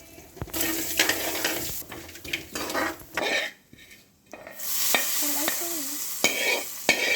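Mustard seeds and cumin sizzle and crackle in hot oil while a spoon scrapes and clinks against the pan in irregular strokes, close and fairly quiet.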